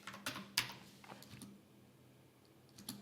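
Fingers tap a computer keyboard in a few quick clicks, then a short pause and one more keystroke, faint and close in a quiet room.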